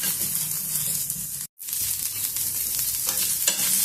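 Tamarind and coconut frying in hot oil, a steady close sizzle that cuts out for a split second and then carries on evenly.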